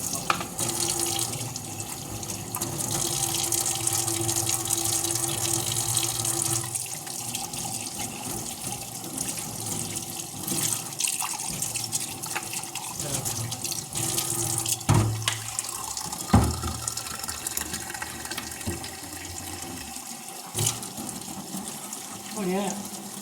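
Water runs steadily from a kitchen tap while a home meal is being cooked, a continuous splashing wash that lasts throughout, with occasional clatters and intermittent voices talking nearby.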